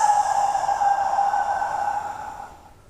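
A long, breathy 'haa' exhale of ujjayi ocean breath, pushed from a contracted throat, close and fairly loud, holding steady for a couple of seconds before fading out, with no words over it.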